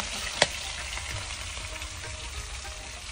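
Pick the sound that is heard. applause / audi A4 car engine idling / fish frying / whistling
fish frying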